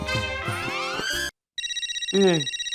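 A telephone rings, its electronic ringtone pulsing steadily after a brief burst of music and a short silence, with a low voice-like tone sweeping through partway.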